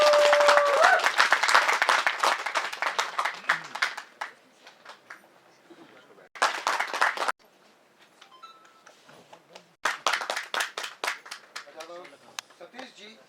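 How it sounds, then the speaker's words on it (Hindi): Audience applause at a trailer launch for the film 7/11 Mumbai Train Blast, coming in loud bursts of clapping with quieter gaps between them, with voices talking in the room. "एक जोरदार ताली"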